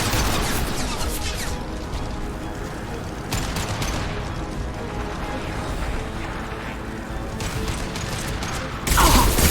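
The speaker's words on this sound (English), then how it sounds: "Firing concussive shot." Concussive shot ability fired in Mass Effect 2, part of a dense stretch of loud game combat with overlapping bursts of gunfire and booms that swell sharply near the end.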